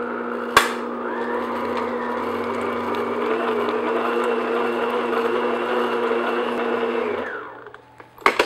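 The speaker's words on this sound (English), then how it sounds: "we're just going to beat that in medium-low speed until it's a nice, thick," An electric mixer beats chocolate peanut butter cupcake batter at medium-low speed, a steady close whir that holds for about seven seconds, then winds down and stops with a couple of clunks.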